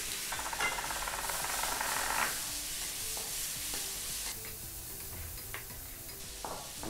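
Chopped tomato drops into onions frying in a pan for paneer butter masala. Close, busy stirring and scraping follows over a continuous sizzle, with a few sharp clicks of the utensil against the pan and no voices.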